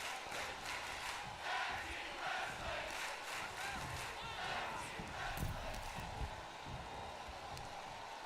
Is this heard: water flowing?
no